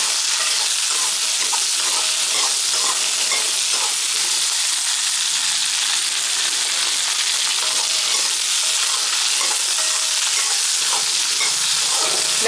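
Small onions sauté in a pan for a traditional village-style small onion chutney, giving off a loud, continuous close-up sizzle with faint stirring, and no voices.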